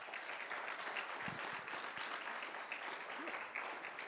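An audience applauds the graduating guide dog class at a Guide Dogs for the Blind ceremony, a steady wash of clapping from many hands, fairly distant and even throughout.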